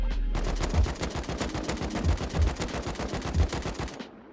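Rapid automatic gunfire in the video game Rust, a fast even stream of sharp cracks with heavy low thumps, lasting about four seconds before stopping.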